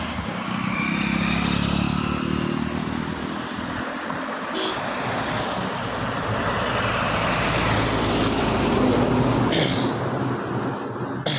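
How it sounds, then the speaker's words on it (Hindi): Traffic passes on a damaged stretch of the Anuppur–Kotma road, with a motorcycle going by amid a continuous loud engine drone and broadband road noise that rises and falls for the whole stretch. "एक निकला बाइक"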